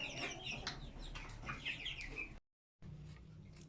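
Chickens cluck and chatter in a cramped pen, several birds close by with overlapping calls, then a brief silent gap before quieter clucking resumes.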